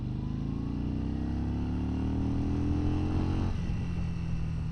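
A Yamaha Bolt motorcycle engine revs with a steady, loud drone whose pitch climbs as it accelerates, then drops sharply near the end as the throttle closes, heard alone without talk.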